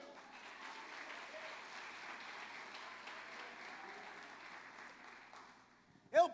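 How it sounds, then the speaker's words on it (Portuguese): A church congregation applauds at a distance, soft steady clapping for several seconds that fades before a short louder sound closes the moment. "Pode aplaudir o Senhor."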